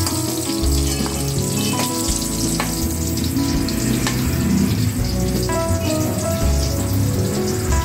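Pointed gourds (potol) half-frying in hot oil, a steady loud sizzle with occasional clinks and stirring scrapes, with no talking.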